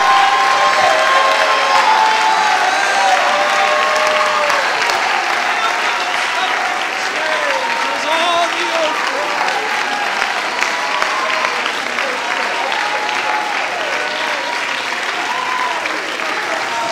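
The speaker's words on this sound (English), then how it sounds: "Clap your hands, oh ye people." A church congregation claps hands steadily and energetically, a dense wash of applause with scattered voices and shouts mixed in, continuing without a break.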